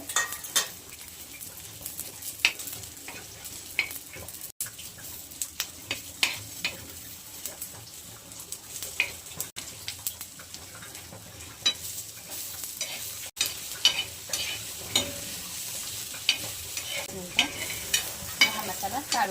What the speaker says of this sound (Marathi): तरी हे मी ह्या तेलातच भाजून घेणार आहे